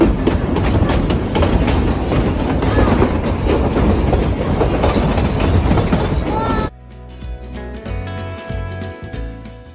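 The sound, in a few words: steam train running on rails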